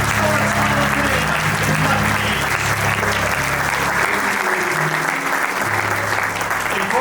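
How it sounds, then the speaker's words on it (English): Loud, sustained applause from a large audience at a sports hall of fame induction banquet, a dense wash of clapping that continues without pause, with faint murmurs of voices underneath. "How about another round of applause for the 2022 Monroe County Sports Hall of Fame"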